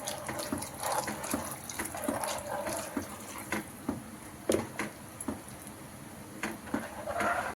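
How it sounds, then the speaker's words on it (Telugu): Hot water from a kettle, about three or four cups, is poured into a pan for semiya sabudana payasam, a steady splashing trickle with a few clinks, quiet and heard on its own. "ఒక 3 or 4 కప్స్ వేడి నీళ్ళు పోసుకోవాలండి"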